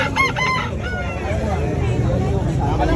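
A rooster crows nearby at a crowded pet market in Malabon, its call loud and drawn out, with clucking and outdoor background noise around it.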